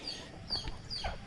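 A few short clucks and calls from native chickens being fed cracked corn and pellets, nearby and fairly clear, with no talking over them.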